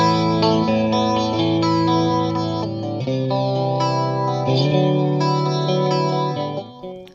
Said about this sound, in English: I'll give you just a little bit of chorus.